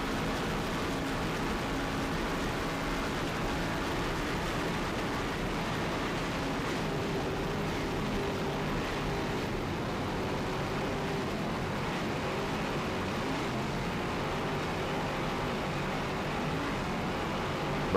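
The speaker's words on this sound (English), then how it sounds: "Just listen to those Bruce Falls Turbocraft engines." Racing powerboats with Bruce Falls Turbocraft engines roar steadily across the water, a constant broad engine drone mixed with spray and wind noise and no pauses.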